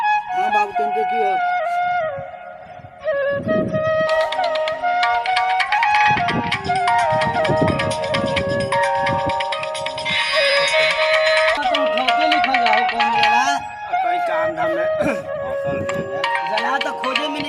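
A mobile phone plays a melodic ringtone loudly and continuously while a call is placed, its tune looping with a bright electronic tone and occasional voices in the background.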